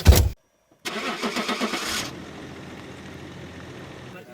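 A car engine cranks and catches after a short click and pause, the starter whirring rhythmically for about a second before settling into a steady low idle, close by with no talking.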